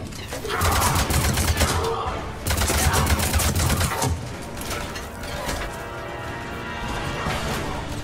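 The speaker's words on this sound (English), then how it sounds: "Let's swap to the machine gun again." Rapid automatic machine gun fire in the shooter game Mass Effect 3, dense bursts of cracking shots with impacts, loud and close, continuing almost without pause.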